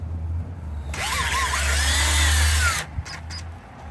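A power drill whirs for about two seconds while working into the threads of a BMW E36 328i engine block, a loud close whine that rises then stops, with a steady low hum underneath.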